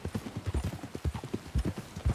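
Horse hooves clip-clop at a steady walking pace in Red Dead Redemption 2, close and fairly loud, with a brief voice under the rhythmic footfalls.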